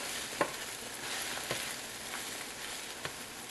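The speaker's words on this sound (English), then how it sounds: "you're just going to continually be scraping the bottom, which is hard with just one hand, and until your eggs are thoroughly done" Eggs frying in a pan while being stirred and scraped, a quiet continuous sizzle broken by a few sharp scrapes of the utensil against the pan bottom.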